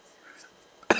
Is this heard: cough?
yes